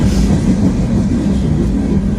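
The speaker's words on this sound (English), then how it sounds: "Train passing by" Loud, close train rumbling past with steady rail noise and a faint clatter, continuous throughout.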